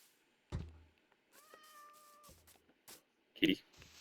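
A Minecraft cat gives a drawn-out meow, followed by a few soft game thuds and clicks, close and clear in an otherwise quiet gameplay moment.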